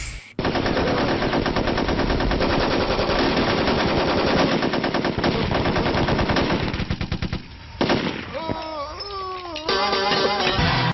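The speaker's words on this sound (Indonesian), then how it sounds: "Densus 88 langsung memberondong peluru kepada Pike hingga tewas." Sustained machine-gun fire in a film shootout, long dense bursts of rapid shots at full loudness, breaking off briefly before resuming with whining, sliding tones over the last few seconds.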